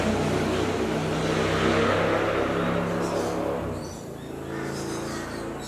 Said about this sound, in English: There's a big noisy car going past.